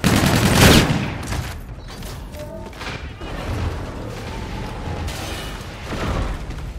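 Call of Duty: Infinite Warfare combat rages with a burst of automatic gunfire, mechanical clanks and booming impacts, loud and close, with scattered shots continuing throughout.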